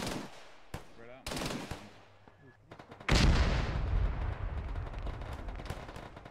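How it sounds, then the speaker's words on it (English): Heavy guns, including D-30 artillery and tank fire, pound away in a military video game. Sharp close shots and rattling bursts build into a loud, continuous barrage of booms. "Those sound like big guns."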